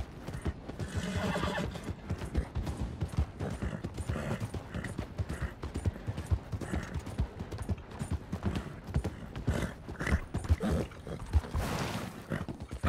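A horse in the Western video game RedM (Red Dead) gallops with steady clip-clop hoofbeats and neighs loudly, the hooves driving continuously under game ambience.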